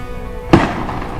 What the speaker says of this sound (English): That was definitely a gunshot.